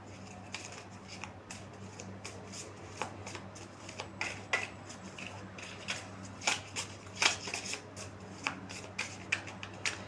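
Tarot cards being shuffled and drawn by hand, a quiet close series of rapid riffling bursts and snapping card flicks with soft rustling between.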